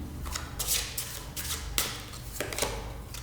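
Tarot cards are shuffled and drawn by hand during a reading, giving close, papery riffling and brushing bursts in an irregular rhythm with soft slaps between them and no voices.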